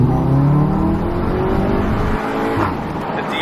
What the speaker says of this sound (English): I actually can hear the exhaust for once.